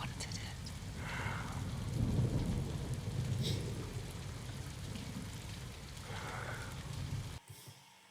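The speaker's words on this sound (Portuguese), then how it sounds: "Parece aquelas músicas do Spotify que tem chuva, né?" Steady rainfall hisses through a scene from House of the Dragon, with low rolling thunder swelling a few times before the sound cuts off abruptly near the end.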